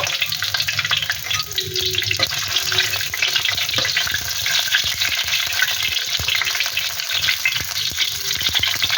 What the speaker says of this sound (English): எண்ணெய் சூடாகிட்டோன்னு பச்சை மிளகாய் போடுங்க.